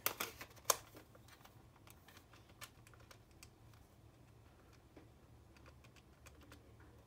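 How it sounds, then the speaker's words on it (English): Calculator buttons are pressed in a quick, light series of small plastic clicks that come close and fairly quiet, with a couple of sharper taps near the start and the rest spread irregularly over a faint background hum. "I can quickly get my calculator"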